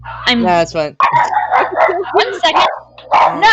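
A pet dog barks and yips several times in a lively indoor scene, the barks mixed closely with loud, excited speech from people talking over it.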